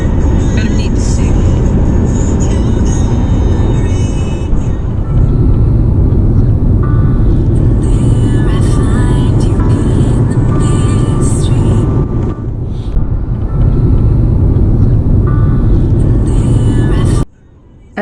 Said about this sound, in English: As we're driving through the country